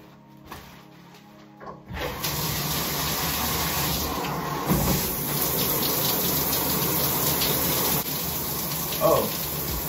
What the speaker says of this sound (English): I'm finna hop in the shower and let's get it.